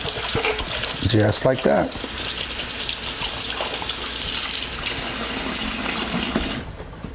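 A kitchen faucet runs steadily as food is rinsed under the water, a constant close splashing hiss that stops near the end, with a brief spoken remark over it.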